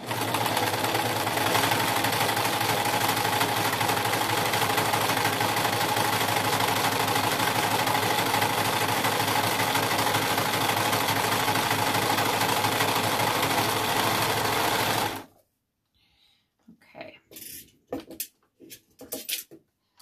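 A serger sewing machine running steadily at its longest stitch length, gathering fabric for a ponytail scrub hat; the close, loud mechanical whir holds for about fifteen seconds, then stops abruptly, leaving a few faint scattered handling sounds.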